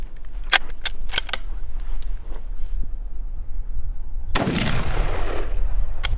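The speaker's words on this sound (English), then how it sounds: "So we'll go ahead and shoot really quick and get the velocities" Rifle reports from 25-06 handloads ring out outdoors during velocity testing: several sharp cracks early on, then one loud, booming shot later with a long echoing tail.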